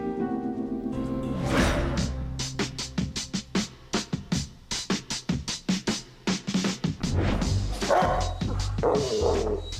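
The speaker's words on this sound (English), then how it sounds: "All that barking, I thought it was going to be some big red guard dog" Small, sweet puppy barking in a rapid string of sharp yips and barks, close and loud, with scratchy scuffling and whimpering noises before and after the volley.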